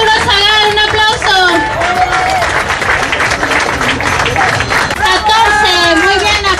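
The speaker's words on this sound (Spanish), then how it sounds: "14, muy bien, aplausos" Crowd at a race finish line in Taxco applauding an arriving runner, loud sustained clapping and cheering with an announcer speaking over the noise.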